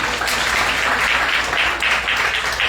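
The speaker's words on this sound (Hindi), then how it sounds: "जोरदार तालियां हो जाए आप सबके लिए।" A large indoor audience applauds at a speech event in Gurgaon, producing loud, dense, continuous clapping that stays strong and even throughout with small rises and dips.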